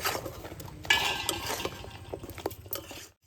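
Kotkoti pieces being stirred into sugar syrup in a pan, with close, irregular clinks and scrapes of a utensil against metal and a soft sticky churning, cutting off abruptly at the end.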